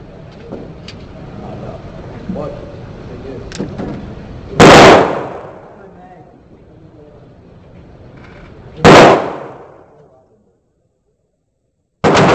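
Two loud sharp gunshots from a Cobra CB9 Derringer pistol at an outdoor range, about four seconds apart, each ringing briefly, over a low murmur of background noise and a third shot starting just at the end.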